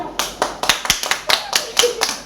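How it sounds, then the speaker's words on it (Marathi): Hands clap at a 60th birthday celebration at home: about ten sharp, close claps in an uneven, brisk rhythm with light voices underneath. "टाळ्या वाजवा"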